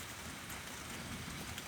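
Steady rain falling on a garden, a soft continuous hiss of drops without breaks, fairly quiet and with no voices.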